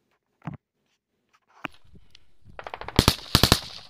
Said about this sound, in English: Somebody throws a fucking grenade or launches a grenade and it falls short and lands right by our fucking dude here